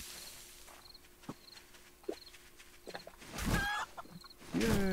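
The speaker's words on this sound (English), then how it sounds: "Yay, I killed the chicken." A chicken in the survival game 7 Days to Die makes a few short, scattered clucks over a light game backdrop, followed by louder thumping impacts and rustling toward the end, with no talk.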